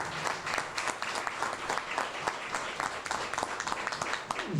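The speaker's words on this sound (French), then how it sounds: "Je vous prie encore de les applaudir très fort." An audience at a medical foundation event gives strong applause to hospital staff; brisk, dense clapping with some distinct close claps, steady throughout.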